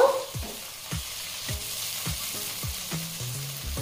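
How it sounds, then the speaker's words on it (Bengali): Bread upma ingredients, chopped tomato with salt, fry in oil under a steady close sizzle broken by rhythmic spatula strokes roughly every half second. "তারপরে এগুলো তেলে একটু ভেজে নেব"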